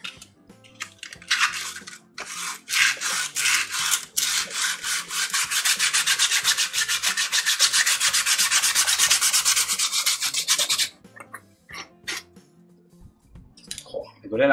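Wood on a model yacht's deck is hand-sanded in long, steady rasping strokes, close and loud, building into a continuous rapid scrubbing before stopping abruptly, followed by a few quieter scrapes and handling sounds.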